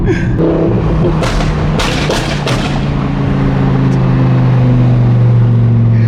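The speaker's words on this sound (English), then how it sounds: "Keep in mind, this car does not have valves either, so it's really loud." Loud exhaust of a stage 4 tuned Audi R8 with a flame tune and no exhaust valves: a heavy, continuous low engine drone with a few sharp bursts and pops early on, close and alone.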